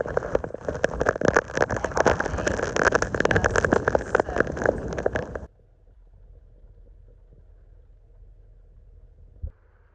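Heavy rain drums loudly on a surface at a mountain ranch for about five seconds, then cuts off abruptly, leaving a quiet low rumble.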